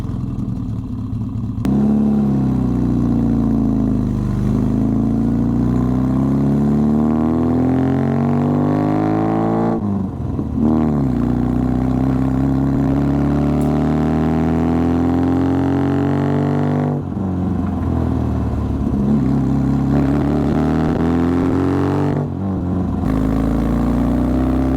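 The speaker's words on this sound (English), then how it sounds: "it's time to take this classic Mini for a spin" A restored classic Mini is driven with its small engine revving up through the gears, the pitch climbing, dropping at each shift and climbing again, loud and close with a steady mechanical drone throughout.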